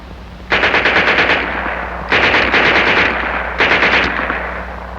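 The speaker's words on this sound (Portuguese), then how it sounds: "E por fim, ouvimos o som da MP-40 Schmeisser, a submetralhadora que equipava o soldado de infantaria alemão." WWII German MP-40 Schmeisser submachine gun firing three loud, close bursts of rapid automatic fire, each lasting about a second, separated by short pauses.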